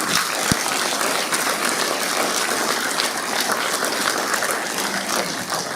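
Audience applause at a Barbados network consultation opening ceremony, loud and sustained from a large crowd, an even wash of clapping throughout with no pauses.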